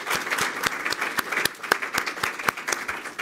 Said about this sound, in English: Let's first give a round of applause to both of our speakers tonight